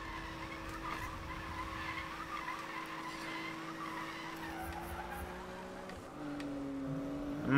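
Tires skid and screech through a long drift in the 2015 Need for Speed racing game, a steady car engine droning underneath and shifting pitch near the end as the slide changes.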